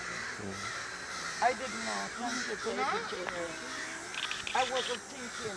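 Crows caw several times at a distance while people talk nearby.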